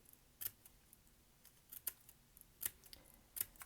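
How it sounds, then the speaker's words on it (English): Scissors snip through paper for a flower craft, a run of faint, close, crisp cuts at an uneven rhythm with no talk. "So I put my scissors right to the point where I want it to cut"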